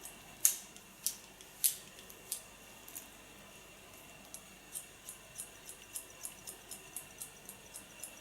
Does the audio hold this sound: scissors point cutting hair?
yes